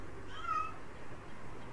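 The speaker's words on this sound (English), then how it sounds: "Sorry if y'all hear my cat singing" A pet cat meows softly in a brief, faint call, heard alone against a quiet, slightly noisy room.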